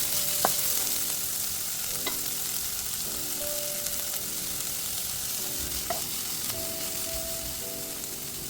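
Chopped green chillies and onion fry with garlic in a pan for egg masala, giving a steady, close sizzle. Sharp clinks of stirring cut in now and then, with a faint tonal hum underneath.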